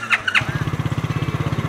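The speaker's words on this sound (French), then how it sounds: "Le moteur aujourd'hui depuis 2 ans il est en mode injection qui permet un démarrage rapide" A Charly mini motorcycle with a fuel-injected engine fires after a brief squeal of cranking and settles straight into a quick, even idle chug, close and fairly loud.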